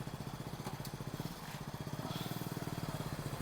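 A motorcycle ridden slowly in first gear during riding practice: a low, steady, quiet engine putter with even rapid pulses, heard alone throughout.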